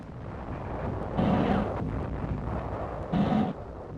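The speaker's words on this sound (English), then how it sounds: ".37mm anti-tank guns provide covering fire for tanks and infantry." Two heavy booms from 37mm anti-tank guns laying covering fire in 1944 combat footage, each a broad roaring blast over a continuous rumbling background, with no talk.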